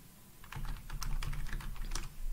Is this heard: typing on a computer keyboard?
yes